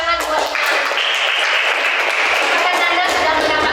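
Group applause at a school guidance counselling session, dense continuous clapping filling the space at close range with a voice heard over it.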